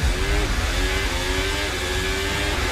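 Formula One cars accelerate off the line at the start of the 2024 Saudi Grand Prix, a steady, loud wash of engine roar with rising pitch sweeps from passing cars and a dense rumble underneath.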